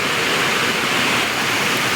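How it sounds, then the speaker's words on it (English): Heavy rain pours steadily outdoors during a sudden downpour, a dense, constant rushing hiss that fills the whole moment at close range with no voices. "It's pouring down out there."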